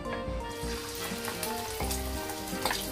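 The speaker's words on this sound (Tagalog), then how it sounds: "Ilagay ng oyster mixture." Oyster omelette mixture hits hot cooking oil in a pan, giving a steady, close sizzle and crackle of frying with faint scraping throughout, no voices.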